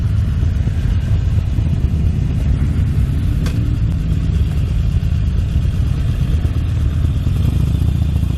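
Many motorcycles ride through town at a busy bike meet, a steady close engine rumble and clatter of passing bikes, continuous and loud with no talking.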